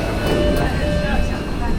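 A subway train on the Chongqing metro makes a steady, loud rumbling roar with a low hum and faint tonal whine, filling the whole stretch evenly like a ride inside a moving carriage.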